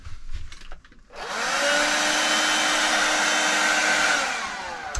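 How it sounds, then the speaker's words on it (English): A Karcher electric window vacuum switches on after a second of quiet, then runs with a loud, steady, high-pitched motor whine for several seconds, close by, inside a narrowboat. "It's our Karcher electric window hoover."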